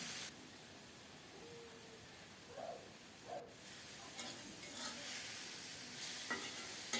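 Coriander leaves fry in a pan over a soft, steady sizzle, with a few faint stirring scrapes partway through, quiet and close.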